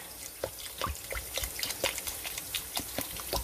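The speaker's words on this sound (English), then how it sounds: "I got about 2 cups of water in here. I'm using my Coke bottle." Water poured from a plastic Coke bottle into a cooking pot, a steady close trickle broken by irregular splashy drips and gurgles, with no voices.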